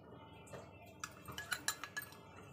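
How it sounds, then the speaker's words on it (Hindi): A spoon clinks against a bowl while mixing cut potatoes with arrowroot for spiced french fries, a run of light, close metallic taps and scrapes coming in quick succession over a quiet background. "इसे अच्छे से चम्मच से ही मिक्स कर लेते हैं"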